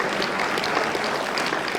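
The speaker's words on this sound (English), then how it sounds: "Please give a round of applause." Audience applause at a Nigerian Independence Day celebration, dense and steady throughout, a full crowd clapping loudly without pause and no voices over it.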